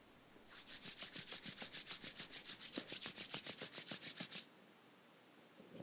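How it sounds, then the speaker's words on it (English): Two palms rub briskly against each other in a steady back-and-forth rhythm, close and fairly loud, about twenty quick strokes over four seconds before stopping, with no talking. "Slowly start rubbing your palms against each other to create some warmth."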